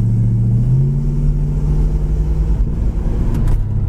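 A 1967 Plymouth Belvedere's engine pulls hard as the automatic transmission kicks down, a loud steady rumble with a rising pitch shift early on, heard alone from close by.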